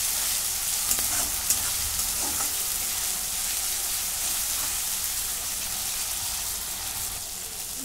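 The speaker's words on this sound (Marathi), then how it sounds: "त्याच्यात मी खोबरं, कोथिंबीर, आलं आणि लसूण याचं वाटण केलेलं आहे, हे टाकून घेते। आता हे पण भाजून घेते।" Coconut, coriander, ginger and garlic paste fries in a pan, a continuous close sizzle with occasional stirring scrapes and small clicks, steady throughout with no talking.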